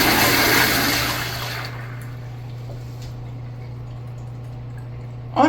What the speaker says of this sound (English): Let's get a look at a flush.